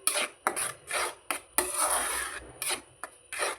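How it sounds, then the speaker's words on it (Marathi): Spoon scraping and stirring orange sheera, a semolina mixture, in a pan: rhythmic close rasping strokes, about eight in quick succession, loud and alone. "जरा चमच्याने चांगलं हलवून घेते"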